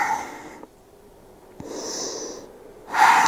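Heavy breathing from a person catching their breath during a yoga session, with several loud, close, breathy exhales and inhales separated by brief quieter gaps.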